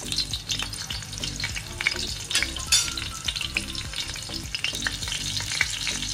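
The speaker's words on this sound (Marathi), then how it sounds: "याच्यात पहिले आपण मिरच्या घालूया, म्हणजे मिरच्यांचा तिखटपणा त्या तेलात उतरेल" Green chillies crackle and sizzle as they hit hot oil in a pan for fish egg masala. The frying is dense and continuous, with spattering pops and occasional stirring scrapes, and no voice over it.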